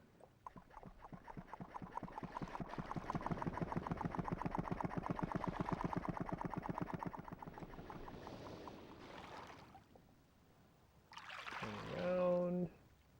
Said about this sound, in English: Gotta drain the water again.